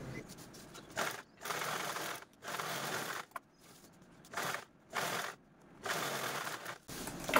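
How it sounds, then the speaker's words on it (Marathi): Sewing machine stitching fabric belts for a handmade basket, running in several bursts of steady whirring and pausing in between, fairly close. "अगदी स्टेप बाय स्टेप तुम्हाला दाखवत आहे मैत्रिणींनो, तर चला स्टिच करून घेऊया।"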